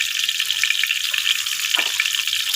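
Vegetables fry in hot oil with a dense, steady crackling sizzle, close and fairly loud, with no voices over it.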